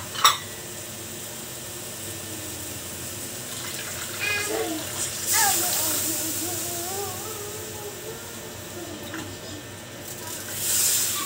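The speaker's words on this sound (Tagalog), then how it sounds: "So maglagay na po tayo ng tubig." Water pours into a cooking pot of sautéed vegetables for sinigang sa miso with maya-maya fish, a hissing, splashing stream that swells and fades over about eleven seconds, with a sharp clink at the start.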